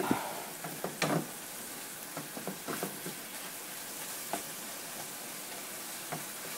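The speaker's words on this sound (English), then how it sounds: "mix it all up and then let the meat cook the rest of the way" Seasoned taco meat with garlic salt cooks in a pan with a soft steady sizzle, broken by scattered scrapes and taps of stirring, clustered early and fading to occasional knocks later.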